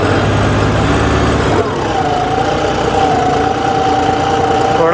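A John Deere 5405 CRDI tractor engine runs under load in a farm setting, a loud, steady, close diesel drone with a tone that rises and then holds.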